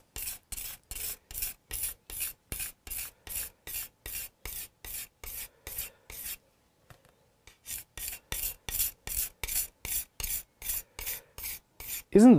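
A tool being hand sharpened during a Hofner Galaxie guitar restoration, a steady rasping rub repeated in even back-and-forth strokes, pausing briefly midway, then resuming at the same rhythm, close and alone.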